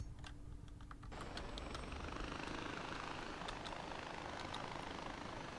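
Steady helicopter rotor and engine drone from a helicopter in the video game Far Cry 4, loud and continuous throughout, with faint clicking keyboard-like taps layered above.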